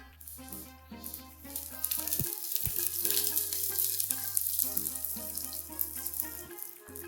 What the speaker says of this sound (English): Heat up a couple of tablespoons of oil until it's fairly hot and add the mustard seeds.